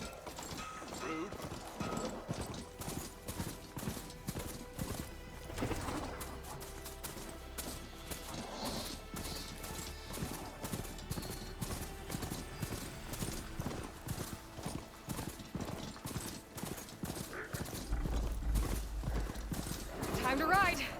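Galloping hoofbeats of a mount in Horizon Forbidden West, a steady clip-clop rhythm running throughout with occasional whinnies, mixed with game music and voices talking over it.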